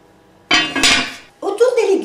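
Dried beans tipped into a pot of salted water for Provençal soupe au pistou, a clattering burst of beans on metal followed by a brief scraping clink, close and fairly loud.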